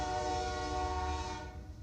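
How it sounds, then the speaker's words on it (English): A train rumbles past with a sustained horn blast over heavy low rumble, loud and close, fading slightly at the end. "Damn trains."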